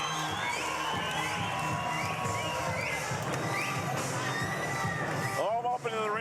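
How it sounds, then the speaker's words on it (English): A boxing crowd roars and cheers wildly after a fight, a dense wash of shouts and whoops that stays loud throughout, with voices rising above it near the end. "Look at that crowd going absolutely crazy."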